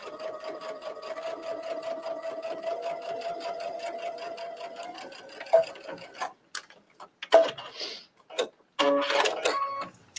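A sewing machine runs a basting stitch, humming steadily for about five seconds before stopping, followed by a few sharp clicks and handling knocks as the fabric is adjusted.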